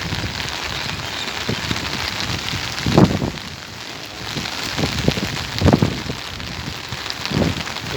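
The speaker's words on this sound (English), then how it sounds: "It's raining." Steady rain patters all around at a beach, with occasional louder splashes and drips standing out against the constant hiss; no voices.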